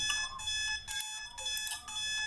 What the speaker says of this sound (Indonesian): Min sensor akan on dikarenakan tidak ada bahan yang tercampur dan mengaktifkan alarm 1